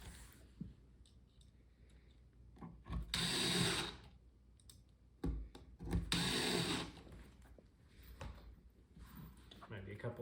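Screws being driven into a wooden farmhouse shoe bench with a power driver, two short whirring bursts separated by quiet handling noise and faint clicks, recorded up close.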